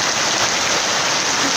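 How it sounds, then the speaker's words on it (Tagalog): Heavy rain pouring down steadily at a construction site where railings are being built, a loud dense hiss filling the whole moment with no voices. "Pagkalakas ang ulan!"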